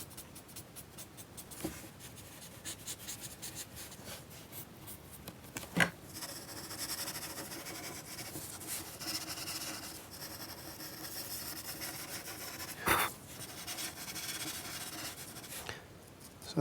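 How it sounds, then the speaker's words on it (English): A charcoal pencil scratches and rubs across paper, tracing around an apple shape in a still life drawing, with close, continuous soft strokes and a few sharper taps. "Just drawing around the apple shape here."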